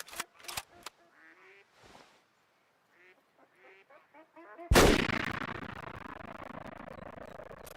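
Sharp rifle shots from the hunting game Way of the Hunter in the Lintukoto Reserve: a few quick cracks, then quacking ducks, then one loud, booming shot with a long rolling echo.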